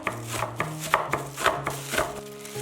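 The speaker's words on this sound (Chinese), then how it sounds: "准备30克葡萄干，30克蔓越莓，用刀把它给切碎" A knife chops raisins and dried cranberries on a cutting board, with close, quiet, evenly spaced taps in a steady rhythm.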